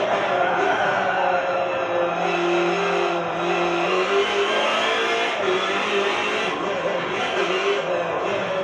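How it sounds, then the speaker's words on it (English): Race cars roar in Forza Motorsport 7 during an endurance race at the Nürburgring, one overtaking a Lamborghini. Engines drone steadily with pitch shifts as they pass, loud and continuous, and a voice talks over them. "Something else is overtaking the Lamborghini."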